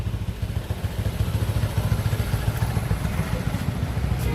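A reconditioned motorcycle being tuned at a used-bike shop runs in a steady, close engine chug with a rapid pulsing beat and mechanical clatter, holding an even idle throughout without clear revving.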